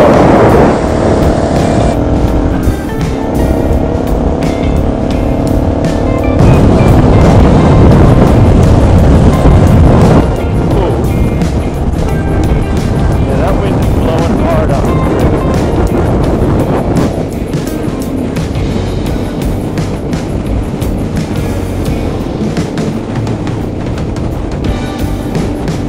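Heavy, continuous wind roar buffets a motorcycle rider at about 70 mph on an overland ride in Greece, loud and close throughout with gusty surges and engine drone beneath.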